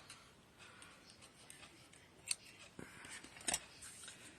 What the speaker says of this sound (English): And then I can cut my strings,